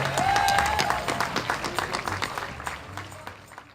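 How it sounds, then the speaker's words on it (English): Audience applause at the Montclair Jazz Festival, a dense burst of clapping that starts full and gradually thins out over a few seconds, with a few whoops in the crowd. "Could we please give them a round of applause?"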